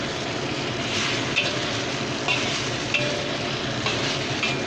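Boiled noodles are stir-fried in a pan for mie goreng, giving a steady close sizzle throughout with faint scraping and clinks from the utensil, and no talking.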